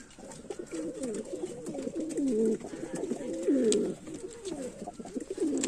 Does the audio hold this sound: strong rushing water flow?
no